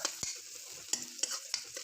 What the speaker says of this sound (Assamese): এইখিনি মিক্স কৰি লৈ ভাজি লৈ হালধি